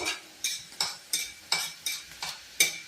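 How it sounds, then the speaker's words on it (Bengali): Lentils for dal fry sizzle in a pan as a spatula stirs them in about eight evenly spaced, crisp strokes, close and clear, with no talk. "ডালটা আমার প্রায় ভাজা শেষই হয়ে যাচ্ছে, আর একটু সময় লাগবে।"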